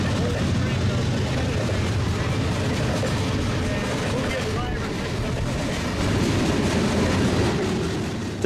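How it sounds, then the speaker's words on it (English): A heavy BNSF eastbound freight train rolls by close at hand, a steady rumbling roar with rhythmic clacking of wheels over the rails. "ran out the back door to catch this BNSF eastbound train"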